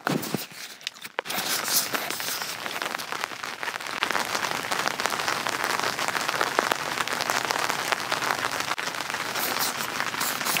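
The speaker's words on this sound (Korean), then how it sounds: "아, 빗소리 진짜 너무 좋아요" Steady rain patters densely on a taut tent roof overhead at a rural campsite, with a brief dip near the start and then a constant drumming close by.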